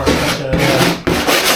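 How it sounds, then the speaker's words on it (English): A sanding block rubbed back and forth over a newly hung ceiling board, giving a steady, close, broadband scraping with one brief pause midway and no talking. "I'll just kind of take my sanding block and go over this where I got"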